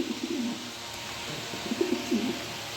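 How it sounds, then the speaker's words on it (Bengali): A pair of racing pigeons cooing softly up close, several low throaty rolling coos in short bursts over faint background hiss. "এক পেয়ার রেসার কবুতর দিলাম"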